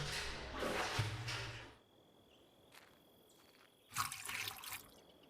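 Water is drawn from a fountain in the game The Crimson Maid: two bursts of splashing, pouring water, the first lasting nearly two seconds and the second shorter, separated by quiet ambience with a faint insect-like chirping tone.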